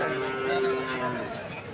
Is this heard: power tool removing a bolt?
no